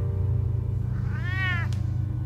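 A cat in Batman: The Telltale Series gives one short, rising meow over a steady low in-game hum, with no one talking.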